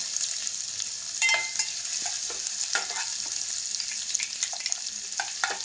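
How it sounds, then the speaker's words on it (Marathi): Chopped chili and onion sautéing in a pan over medium heat, a close, continuous sizzle with repeated spatula scrapes and stirring taps, with no talking. "व्यवस्थित परतून घेऊया लालसर होईपर्यंत"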